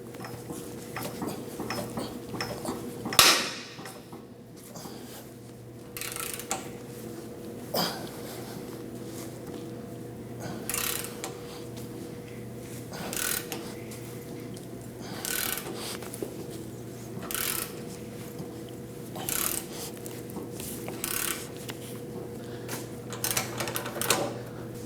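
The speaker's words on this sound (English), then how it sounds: "Now that we've broken the bolt free" A wrench cracks loose a rear sway bar link bolt on an Audi Q5 with a sharp click near the start, followed by scattered faint metallic taps and ratchet-like clicks in a quiet workshop.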